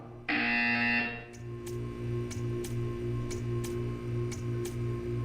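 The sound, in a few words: buzzer in a video game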